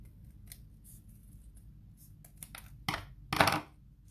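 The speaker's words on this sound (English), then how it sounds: "So when I cut this now, I'm going to end up with 2 leaves." Scissors cut sheets of paper for a kids' Mother's Day card craft. A few small snips come first, then two louder crisp cuts near the end, close and clear over faint background hum.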